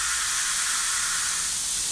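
Compressed air hisses steadily from the pressurised line of a homemade ceramic paste extruder on a 3D printer, a constant broad airy rush with no talk over it.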